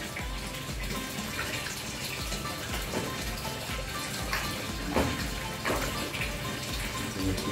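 Water runs steadily from a tap at a koi farm, a continuous close splashing gush that holds an even level for the whole stretch.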